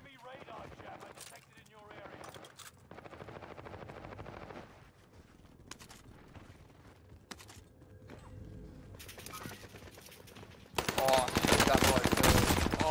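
Gunfire in the video game Warzone on Fortune's Keep, bursts of automatic fire in several runs with a louder sustained stretch at the end, with a player talking over parts of it.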